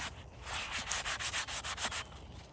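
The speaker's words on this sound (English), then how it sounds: "I'm sanding this down with a sanding sponge, 80 grit, because this paint is in pretty rough shape." Rough, rasping strokes of an 80-grit sanding sponge scrubbing worn, corroded paint off a 1955 Westinghouse fan, rhythmic back-and-forth rubbing, close and moderately quiet.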